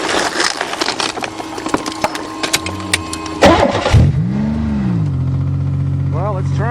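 The engine of a crushed Buick revs and strains as the car tries to move, giving a mid-pitched, rising and falling motor drone with clattering and scraping. It sounds close, and voices talk over the start.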